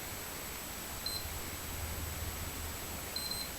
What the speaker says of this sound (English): You'll hear a single beep and a double beep.